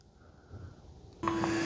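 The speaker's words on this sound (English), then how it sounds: "So you can hear a door opening. It's opening the dustbin, and now it's auto emptying this into there." An Ecovacs Deebot T30S station's dustbin door opens with a soft click, then the auto-empty motor starts abruptly and runs as a loud, steady whirring hum, close by.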